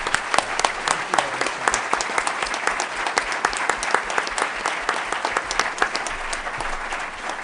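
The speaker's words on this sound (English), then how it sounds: "please join me in extending warm applause to this absolutely fantastic panel" Business school audience applauds a finance panel at the close of a session, dense sustained clapping from a large crowd at even loudness throughout.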